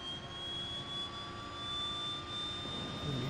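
The right engine of a Twin Otter spools up in Flight Simulator X, giving a steady turbine whine with a slowly rising pitch over a continuous roar, heard alone.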